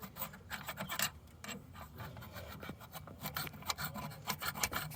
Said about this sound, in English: Just scraping the sides of the hole.